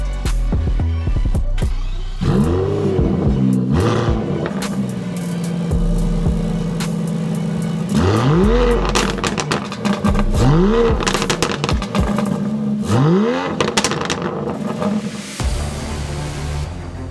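An Aston Martin DBS 770 Ultimate, rated at 759 horsepower, revs hard several times in close succession, each blip rising sharply and falling back with crackles on the overrun, loud and near over a droning idle.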